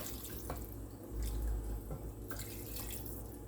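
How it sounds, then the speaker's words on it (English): Running water pours steadily from a tap into a cooking pot for potato soup, a continuous splashing rush with a few clinks, no talking. "Now I'm going to take some water and fill it up to about here."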